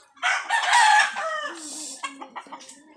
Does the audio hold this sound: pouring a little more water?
no